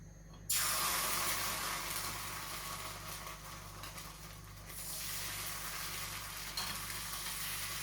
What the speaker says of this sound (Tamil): இப்போ நான் இன்னொரு அப்பம் உங்களுக்கு ஊற்றி காட்டுறேன்.